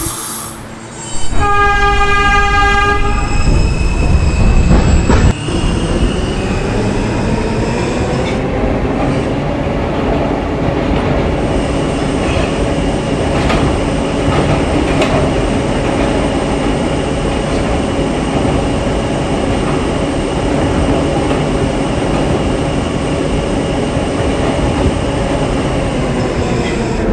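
An E train on a subway line opens with a short horn-like tone burst, then rolls on with a steady loud rumble and wheel noise that carries on throughout.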